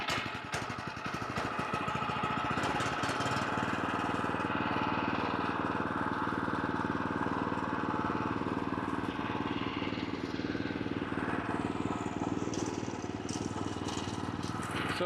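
A lawn mower engine runs steadily throughout at close range, a continuous loud drone while someone mows a lawn, with no clear speech over it.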